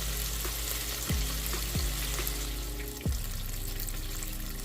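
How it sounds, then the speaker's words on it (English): Catfish fillets deep frying in oil at 350 degrees, a steady close crackling sizzle throughout with a few soft knocks and clinks of a utensil against the pot. "We're gonna let that side fry for 2 to 3 minutes"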